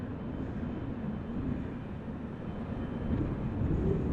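A Boeing 777-300ER airliner in SkyTeam livery takes off at Amsterdam Schiphol after a storm, a steady, loud low rumble of jet engines that builds slightly and holds without a break.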